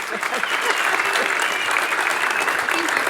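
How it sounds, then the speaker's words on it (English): A large keynote audience at a HackUSU event breaks into sustained, dense applause, a steady wash of many hands clapping at once with no gaps. "So huge round of applause"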